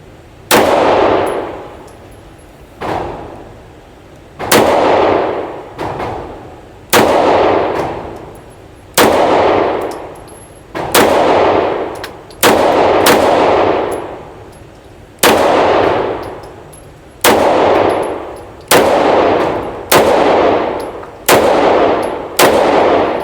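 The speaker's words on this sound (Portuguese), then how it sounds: "aqui tem a Apache, que eu quero que você teste também, que é uma 9mm bifilar" An Apache 9mm double-stack race pistol fires about a dozen loud single shots, spaced roughly two seconds apart, each with a sharp crack and a long ringing, echoing decay, and no talking between them.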